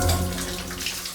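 Water from an indoor shower runs in a steady, close hiss throughout, with no voices over it.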